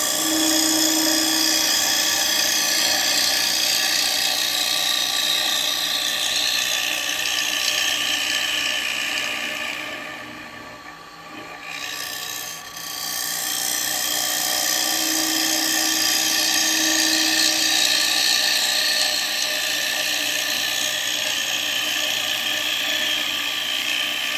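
Wood on a lathe cut with a negative rake carbide cutter: a continuous loud, high whirring scrape that dips briefly in the middle as the cut pauses, then resumes at the same steady level.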